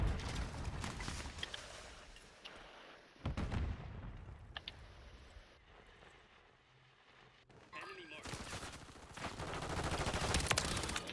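Call of Duty gunfire rattles in short bursts between quiet gaps, with a final heavy stretch of rapid shots, while a player talks over the action.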